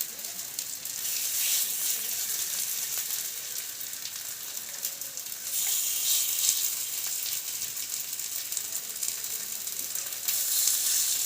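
Oil sizzling on a flat tava set over a gas flame in a village kitchen, a steady dense hiss with faint crackles that swells louder around the middle and again near the end, with no talking.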